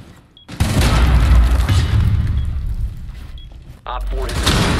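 Flashbang grenades burst in Rainbow Six Siege, loud, close booming blasts that fill most of the moment, followed by a short pause and another heavy roar.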